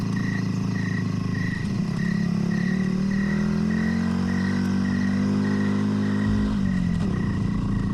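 A motorcycle engine hums steadily as it rides, pitch rising slightly midway and dropping near the end, with insects chirping in a regular pulse behind it.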